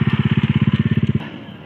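A motorcycle engine throbs in a rapid, steady pulse close by for just over a second, then drops away abruptly, leaving faint background noise.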